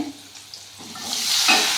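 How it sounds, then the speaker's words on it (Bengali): Potatoes and vegetable stems drop into a hot pan, and a soft hiss grows into a loud, steady sizzle that fills the second half. "কড়াইতে দিয়ে আমি সুন্দর করে ভেজে দেব।"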